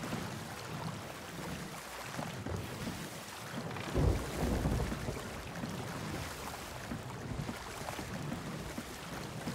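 A stormy sea in Sea of Thieves, with continuous wind roar and rushing waves around a sailing ship, plus one heavier low thump midway and no talking.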